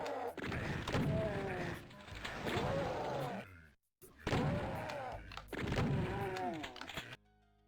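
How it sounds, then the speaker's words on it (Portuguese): Super Shotgun blasts in the Doom video game, with loud booming shots followed by mechanical reload clanks, repeating in two bursts separated by a brief silent gap. "Super Shotgun."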